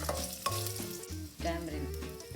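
Chili fries in hot oil in a pan for a South Indian chutney, crackling and sizzling at close range, with quiet stirring sounds underneath.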